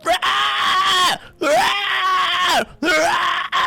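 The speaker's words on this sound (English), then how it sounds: "this thing just starts to scream and wail as it echoes throughout the whole place" A creature screams and wails with an echo, a tabletop game effect: three long, loud, harsh howls, each slurring down in pitch at its end, with brief gaps between them.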